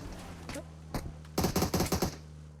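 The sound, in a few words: gunfire in the video game BGMI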